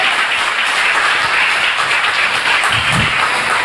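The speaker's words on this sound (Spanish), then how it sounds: "dale un fuerte aplauso a él si le vas a aplaudir" A church congregation applauds steadily and loudly, a dense wash of many hands clapping that holds at an even level throughout, with no voices heard above it.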